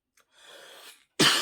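A single short cough bursts out loud and harsh at the end, preceded by a faint breathy exhale, from someone who is thirsty and coughing at home.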